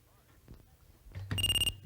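A game show contestant buzzer on the Starcade show sounds a loud, bright electronic tone for about half a second after some faint background murmur.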